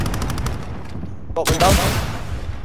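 Rapid gunfire bursts in the video game Warzone, a quick run of shots followed by a louder burst, with a player's voice talking over the action.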